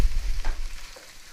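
Diced tomatoes stirred into a hot frying pan for a spinach and cauliflower bhaji, giving a short, close scrape and sizzle that fades over about a second, with no talking.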